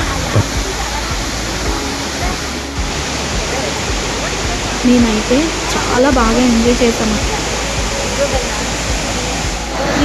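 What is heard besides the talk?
waterfall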